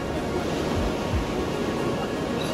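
A steady broadband roar of rushing water at flooded Uluru, where heavy rain pours over the rock as a waterfall and spills across the path, continuous and loud with no talking.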